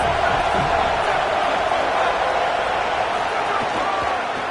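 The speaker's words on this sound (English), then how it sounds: "This crowd ready to make its presence known." Crowd noise from a football stadium in a Blitz college football game between FSU and BYU: a steady, dense roar of many voices that stays constant and loud throughout.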